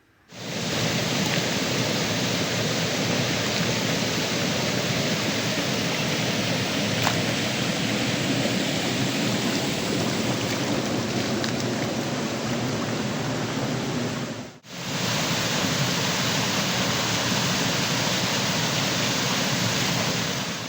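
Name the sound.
water flowing in an irrigation canal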